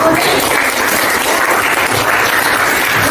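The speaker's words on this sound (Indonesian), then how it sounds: "tepuk tangan dulu pertanyaan Mas Bisa" Classroom applause from students for a classmate's question, a loud dense burst of clapping that holds steady for several seconds with no voices over it.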